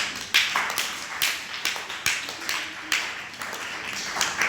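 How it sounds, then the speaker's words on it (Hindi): Students in a government senior secondary school in Gurugram clap their hands, a group round of applause with several bursts of close, sharp claps. "तालियां बजाओ"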